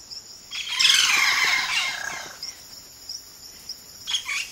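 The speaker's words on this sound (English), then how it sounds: "They are gifted ventriloquists. A single bird can sound like a chorus." A single Amazon rainforest bird, a gifted ventriloquist, gives a loud burst of overlapping squawks and chirps that sounds like a chorus, then fades to a few short calls and a faint insect hum, with no one speaking.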